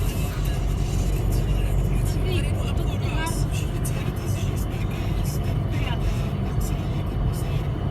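Steady, loud road noise of a car driving on the way to Písek, with continuous low engine and tire rumble throughout; people talk inside the vehicle over it.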